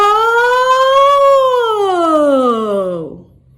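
A single voice imitates a siren in a singing exercise, holding a rising pitch and then sliding smoothly down over about three seconds before it cuts off, heard up close with no words.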